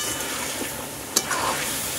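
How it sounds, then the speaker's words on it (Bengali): Country chicken pieces fry in a pan, a close, continuous sizzle with a sharp clink of a utensil stirring partway through. "মাংসটা এবার ভালো করে ভেজে নিতে হবে, একটু ঢাকা দিয়ে ভেজে নেবে।"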